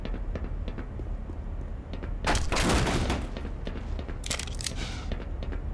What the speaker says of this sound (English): Who is shooting rockets, though?